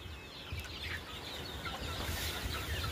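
A crowd of native country chickens clucks and chatters at a farm in Vempa village near Bhimavaram as children scatter feed, a dense, fairly faint flock murmur with scattered individual clucks.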